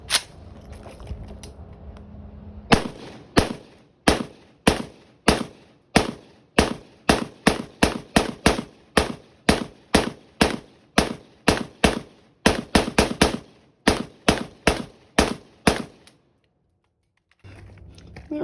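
An AK rifle fires the rest of its magazine into a spall bag, sending about thirty sharp, loud, close cracks in a steady, slightly uneven rhythm, with a few quick doubles, before a short silence.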